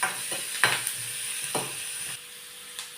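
Onion fries in a pan with spice paste while being readied for fish fry on banana leaf, a low steady sizzle broken by a few sharp scraping stirs of the utensil.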